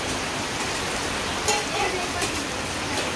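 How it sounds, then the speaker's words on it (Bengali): Heavy rain from a storm in a Bangladeshi village pours down as a dense, steady hiss with no letup, loud and close, and a voice speaks faintly beneath it. "ঝড় বৃষ্টি এরকম একটা অবস্থা, কি অবস্থা করছে"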